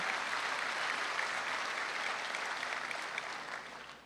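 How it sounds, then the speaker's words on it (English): Sustained audience applause honoring Sarah Sanders, a dense, steady wash of many hands clapping at a Christmas event that fills the whole stretch before easing slightly at the end. "she deserves a big clap"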